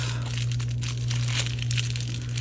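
Crinkling and crunching of a plastic piping bag holding resin as it is tied off and cut, a steady rustle under a constant low electrical hum, with no voices.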